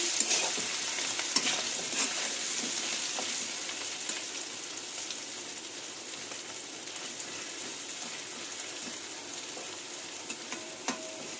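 Fennel seeds, dried chilli, cumin and ginger fry in hot oil in a pan, giving a steady close sizzle with faint stirring scrapes that runs evenly throughout with no talking.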